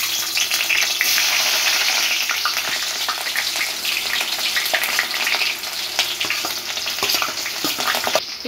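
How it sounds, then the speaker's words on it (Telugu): Onions sizzling in hot oil for a green banana curry, a loud, dense, continuous crackle close up with occasional stirring scrapes and no talking. "ఇప్పుడు ఫస్ట్ ఆయిల్ హీట్ అయిన తర్వాత ఫస్ట్ ఆనియన్స్ వేసేసుకుందాం."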